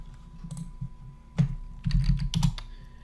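A few keystrokes typed on a computer keyboard while entering a command in CAD fabrication software: sparse, crisp clicks, some single and some in a quick cluster, close and fairly quiet.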